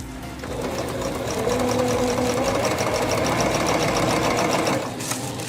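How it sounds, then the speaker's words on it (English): Sewing machine stitching a hair weave track, a close, steady mechanical whir with fast rhythmic needle ticking that runs for several seconds before stopping. "with my sewing machine."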